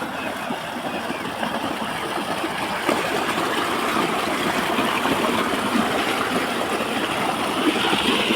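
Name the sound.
water gushing from a borewell motor pump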